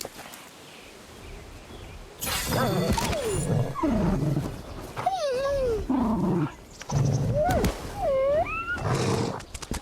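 Direwolf in Ark: Survival Evolved, the Fjordur map, giving a run of growls, snarls and rising whining howls. The calls are loud and close and arrive in bursts over a steady game ambience.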